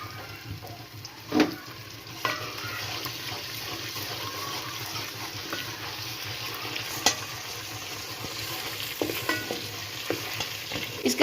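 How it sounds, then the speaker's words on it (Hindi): Ginger frying in a pan for sarson ka saag, a steady soft sizzle with occasional scraping stirs and clinks of a spoon against the pan. "अदरक को हमने ऐड कर दिया इसमें। इसको थोड़ा सा हम 1-2 मिनट के लिए इसे ब्राउन करेंगे।"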